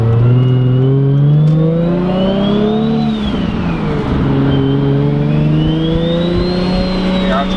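A car engine revs hard and climbs in pitch as it accelerates, loud and close, with a brief dip mid-pull before winding up again.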